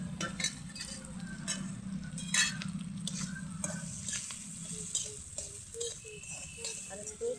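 Chopped onion frying in oil in a pan for a leafy greens dish, a soft low sizzle with a few light clinks and scrapes of a spatula stirring, fairly quiet and close.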